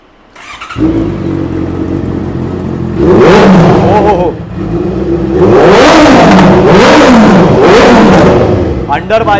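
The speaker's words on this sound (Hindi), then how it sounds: "एक और होंडा का स्मूथनेस, CBR 650 का साउंड सुना देते भाई" Honda CBR 650 motorcycle, a 2016 bike fitted with an aftermarket underbelly exhaust, starting up and idling, then revved hard several times in rising and falling surges, loud and close with voices under it.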